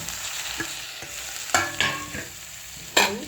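Tomatoes frying in a pan, a steady sizzle with several sharp scrapes and clacks of a spatula stirring them through the clip, close by and with no talking.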